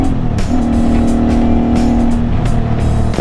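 Dense expressway traffic roars loudly and continuously as cars rush past close by, with engine hum and tire noise blending into a constant wash, heard from a motorcycle ride in the Philippines.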